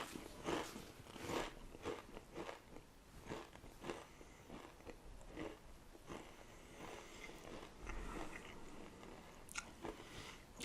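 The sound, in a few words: eating Hot Ones Barbacoa Pringles potato chips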